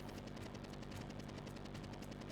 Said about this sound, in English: Look out, gunshots.